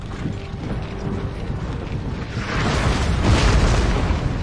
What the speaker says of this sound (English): it's just going to be the standard round shot coming in first